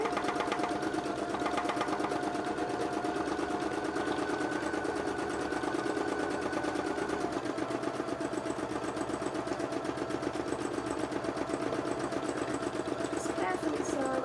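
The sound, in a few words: sewing machine stitching breast embroidery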